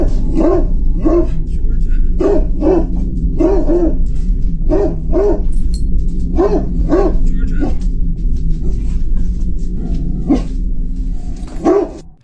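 A dog barks about a dozen times in sharp, close bursts spread unevenly across the stretch, some of them yippy, over a constant low background hum.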